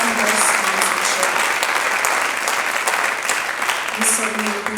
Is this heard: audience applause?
yes